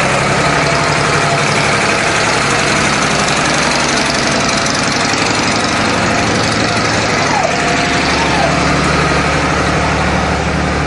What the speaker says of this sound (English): I'm afraid we have a tractor coming through, so we may have to wait a little bit.